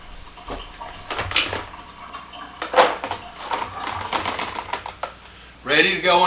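Green onions are chopped on a cutting board with a knife, giving bursts of sharp, close taps and crunchy cuts in irregular runs, with a voice speaking briefly near the end.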